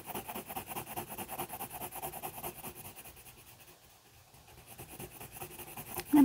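A colored pencil applies a second light layer of orange on paper in quick rhythmic scratchy strokes, close and soft, pausing midway before resuming, with no voices.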